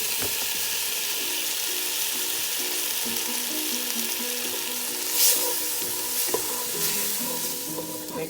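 Garlic, ginger, green onions and tomatoes sizzle steadily in a pan for chickpea and potato curry while being stirred, a continuous close frying hiss with scraping strokes and a clatter near the end.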